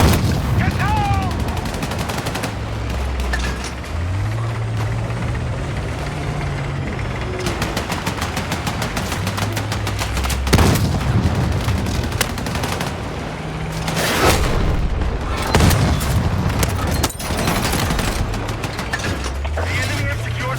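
Gunfire from a Battlefield 6 firefight, with rapid automatic bursts and sharp single shots throughout, layered over a rumbling battlefield bed and occasional engine noise, with game voice callouts mixed in.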